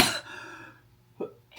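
A person coughs sharply once up close, followed by a brief pause and a second, shorter cough, indoors with no other sound.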